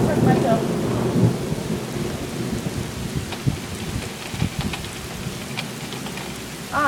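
Steady heavy rain pours through an open window during a thunderstorm, with rumbles of thunder rolling under the continuous hiss of falling water.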